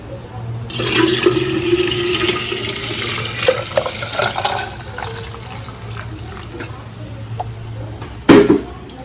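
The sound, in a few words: pouring strained kombucha liquid into a jar of fruit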